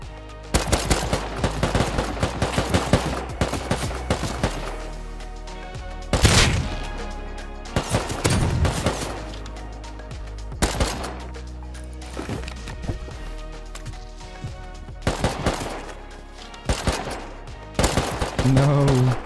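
Gunfire in the survival video game Rust, with loud repeated shots in rapid bursts and single cracks spread across the stretch, some close and sharp, with brief pauses between volleys.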